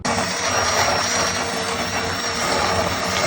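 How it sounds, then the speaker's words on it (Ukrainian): A blender whirs loudly and continuously, blending a hot homemade processed-cheese mixture smooth, its motor droning at a steady high pitch throughout. "Збиваю блендером, щоб не було ніяких грудочок."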